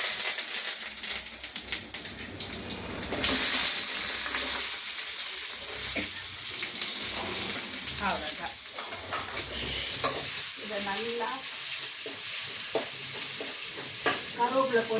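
Fennel seeds and curry leaves hit hot oil for a prawn gravy, setting off a loud sudden burst of crackling that settles into a busy, spattering sizzle with stirring scrapes throughout.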